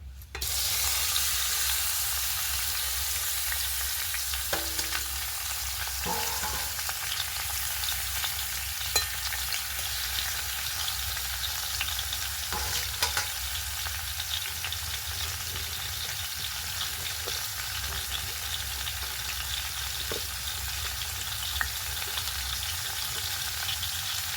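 Sole fish fry lightly in hot oil in a pan as they are stirred, making a continuous soft sizzle with occasional faint clinks, without speech.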